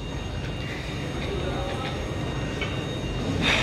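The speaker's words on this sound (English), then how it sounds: "That must be our train coming in." Train pulling into Bologna railway station on a warm morning, a steady rumbling roar with squealing and clanking, swelling louder toward the end.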